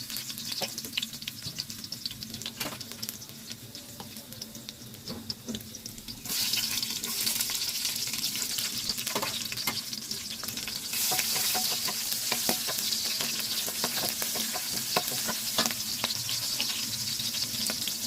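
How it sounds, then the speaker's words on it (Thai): Steady sizzle of garlic frying close by in a hot wok with stirring clatter and a brief rush of running water, growing louder and denser partway through. "ตั้งกระทะร้อนแล้วเนาะ ใส่กระเทียมไปค่ะ"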